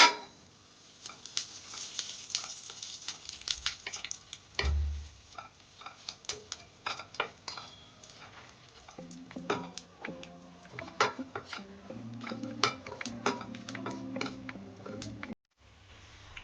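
A spoon clicks and scrapes against a cooking pan as cloves and cinnamon are stirred, giving sparse, irregular ticks that turn busier and rattly later, with a soft sizzle underneath.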